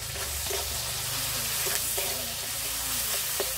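Chopped tomato, torn chillies, salt, turmeric and ginger paste frying together in a pan, a dense continuous sizzle with light rhythmic stirring scrapes close by, no talking.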